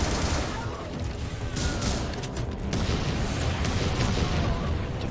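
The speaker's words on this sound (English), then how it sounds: "I'm shooting a lot and missing." Dense, rapid gunfire fills the action video game Butcher, a continuous loud barrage of overlapping shots and blasts with no gaps across the whole stretch.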